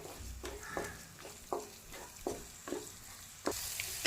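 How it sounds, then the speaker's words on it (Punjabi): Masala frying in oil in a pan, stirred continuously with a ladle: a low sizzle broken by regular scraping strokes about every second, close and fairly quiet, no talking. "ਇਸ ਤਰ੍ਹਾਂ ਲਗਾਤਾਰ ਕੜਛੀ ਚਲਾਉਂਦੇ ਪਕਾ ਲੈਣਾ ਮਸਾਲੇ ਨੂੰ"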